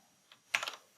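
A brief burst of typing on a computer keyboard during C# coding: a lone soft tap, then a quick cluster of three or four close, crisp key clicks, quiet and without talk.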